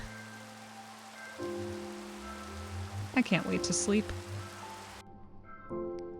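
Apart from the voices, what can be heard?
rain in Minecraft video game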